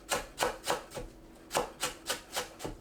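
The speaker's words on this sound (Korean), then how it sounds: "파를 작게 썰어주세요" Green onion being chopped into small pieces with a knife on a cutting board, nine or so crisp, evenly spaced chops close up, with no talk.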